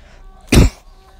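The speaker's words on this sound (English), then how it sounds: "this cough is so annoying" A single short, harsh cough bursts out loud and close, with quiet room tone before and after it.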